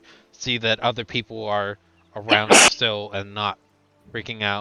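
A single loud sneeze bursts out in the middle of ongoing conversation, with people talking before and after it.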